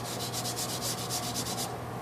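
A bumper's clear-coat run is wet sanded with about 600-grit paper in quick, even back-and-forth rubbing strokes, roughly a dozen in a steady rhythm, close by, then it stops.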